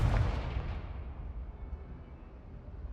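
A Confringo blasting spell explodes in Hogwarts Legacy during a fight against trolls in Hogsmeade, a booming burst that opens loud and rumbles on as a slowly fading low roar.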